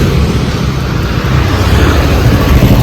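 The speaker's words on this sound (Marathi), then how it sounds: "गाड्या खूप येतात या रोडवरती, खूप कधीही गाड्या येतात." A busy road gives a steady, loud roar of passing vehicles with a constant low rumble, and no one speaks over it.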